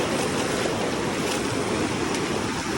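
Strong rushing river current, a steady, loud broadband roar of fast-flowing water that persists without pause, with some wind buffeting the microphone.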